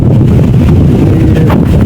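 Strong wind gusting across a wheat field, a loud continuous roar buffeting the microphone with no other sounds clearly standing out.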